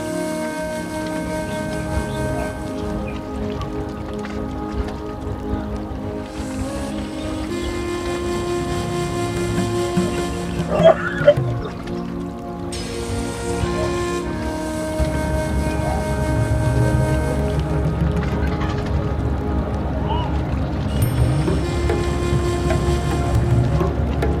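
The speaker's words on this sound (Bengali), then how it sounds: "দল বেঁধে নৌকাগুলো যমুনা নদীর চলার দৃশ্যটি খুবই মনোমুগ্ধকর লাগে" Boats travel on the Jamuna river, with steady droning engine hums carrying from near and far over a constant wash of background noise, plus a brief clatter partway through and no talking.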